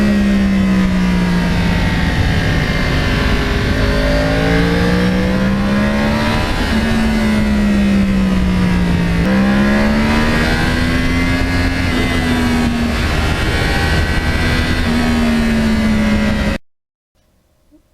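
A one-owner original cross-plane Yamaha R1 motorcycle with 32,000 miles being ridden, its engine droning loud and close with rising and falling revs through gear changes, then cutting off abruptly near the end.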